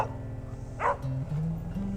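A dog gives a short bark over a low steady hum, followed by a couple of lower drawn-out tones.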